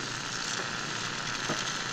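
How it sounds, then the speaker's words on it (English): Crow meat sizzles over hot coals with a steady, close crackling hiss that runs unbroken, with a brief louder pop near the end. "Sizzling"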